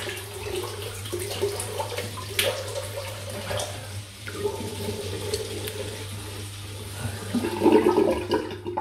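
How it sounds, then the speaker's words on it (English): Water gurgles and drains from a sink, a low steady rush with bubbling swells, fairly quiet and close. "You don't often hear the sink draining with me, but you will today."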